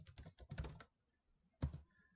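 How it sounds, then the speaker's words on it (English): Fingers type on a computer keyboard in a quick burst of soft, close clicks, then pause before one final keystroke, all quiet with no talking. "Type in your name, whatever username that you want to have"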